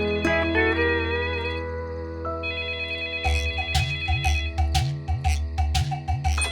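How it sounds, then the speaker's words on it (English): Cartoon telephone ringing at night, a bright electronic trill that repeats in quick bursts over soft background music, loud and close. "when suddenly the phone rang"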